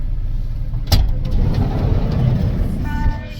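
A tour van carries passengers toward Mount Chacaltaya near La Paz, Bolivia, its engine droning steadily with road rumble and one sharp knock partway through.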